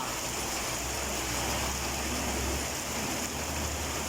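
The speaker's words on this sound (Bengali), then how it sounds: "অনেক বৃষ্টি" Heavy rain roars continuously, a loud dense wash of sound with a low rumble beneath and no pauses.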